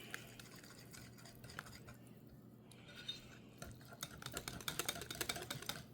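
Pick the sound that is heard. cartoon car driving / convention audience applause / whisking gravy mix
whisking gravy mix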